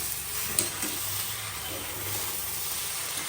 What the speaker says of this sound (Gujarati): અંદર વઘાર નાખ્યો છે આપણે